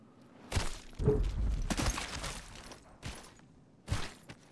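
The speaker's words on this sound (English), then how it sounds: "Yeah, I hear gunshots." Gunfire in a battle royale video game, a few separate sharp bursts and thuds at uneven spacing, some near and some farther off, with quieter gaps between them.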